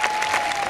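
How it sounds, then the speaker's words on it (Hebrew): Applause at a graduation ceremony for an IDF border defense observer course, dense sustained clapping from a large crowd with a steady tone running beneath, no talking. "מגיעות להן מחיאות כפיים."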